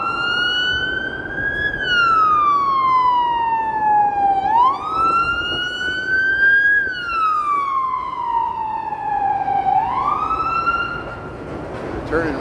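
Police car sirens wail up and down on a Chicago street near the Chicago Theater, loud and close, sweeping through several long rising and falling cycles over steady traffic rumble.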